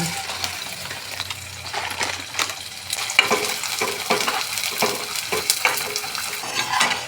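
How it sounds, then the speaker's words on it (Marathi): Edible gum (gond) frying in hot ghee for gond laddoos, a steady close sizzle broken by frequent sharp crackles and pops that grow busier as the pieces puff up, with no talking. "आपण तूप तापवून घेतलेला आहे आता आपण डिंक तळून घेऊया"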